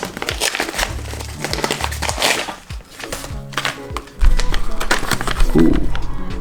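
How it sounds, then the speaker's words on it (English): A plastic package holding a SmallRig shoe mount relocation plate for a Sony A6600 being opened, with close crinkling and crackling of plastic and some bumps and handling noise throughout, with no talk. "I'm going to open up this package."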